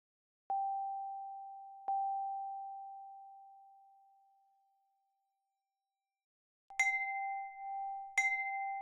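Two struck tones from an Objekt physical modeling synthesizer: a single ringing note that repeats and fades slowly, then a brighter note with an added overtone struck twice in quick succession, each ringing on cleanly.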